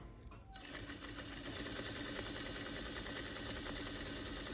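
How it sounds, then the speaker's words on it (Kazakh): A sewing machine runs a long, steady, close stitching burst along the seam of a raglan-sleeve top, a continuous rapid mechanical whir after a brief quiet start. "Сосын осылай соңына дейін 1 сантиметр тігіп аламыз."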